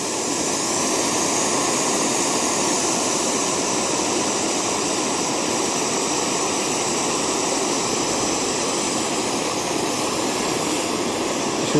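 A lightweight pocket camping gas stove burns at full power with a loud, steady roaring hiss that holds unchanged throughout, close to the microphone with no voices.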